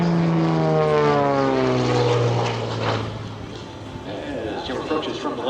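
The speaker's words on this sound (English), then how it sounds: "As Jim approaches from the left, he sets up for half of a Cuban 8." An aerobatic propeller airplane performs half of a Cuban 8 at the EAA AirVenture airshow, its loud engine drone sliding downward in pitch as it passes close by, then fading into a rougher, more distant roar.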